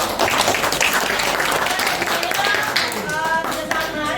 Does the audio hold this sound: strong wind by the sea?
no